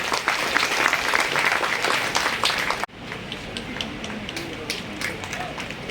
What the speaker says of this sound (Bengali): হাততালি দেন